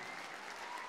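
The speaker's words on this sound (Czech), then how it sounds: "celá hala mu tleská." An indoor sports hall crowd applauds a high jumper at a men's competition, a brief, quiet, continuous wash of clapping heard from a distance.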